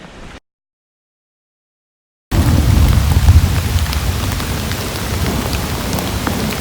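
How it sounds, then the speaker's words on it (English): Steady heavy rain with low thunder rumbling through a thunderstorm on a backpacking trail, loud and continuous after a brief gap of silence. "we are in the middle of a thunderstorm"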